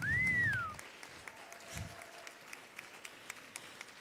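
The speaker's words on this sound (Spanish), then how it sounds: "También un fuerte aplauso" Scattered, light clapping from a lecture-hall audience at a migration conference, sparse and fairly faint after a brief low rumble and a short whistling tone at the start.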